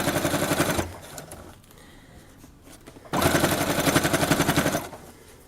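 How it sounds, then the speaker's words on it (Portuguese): A sewing machine stitches around bias binding on a diaper holder in two loud, close bursts of rapid rhythmic needle clatter, separated by a quieter pause of about two seconds. "eu venho fazendo uma costurinha, desculpem, em toda a volta"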